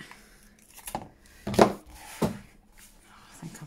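Scissors cut paper for an altered book page with a few crisp snips and rustles, two of them louder in the middle, and soft handling noise between.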